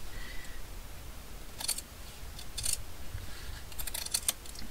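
Paper trimmed with scissors while crafting woven-fabric card ephemera: a few crisp snips come in brief bursts, close and fairly quiet, over a steady low background hiss.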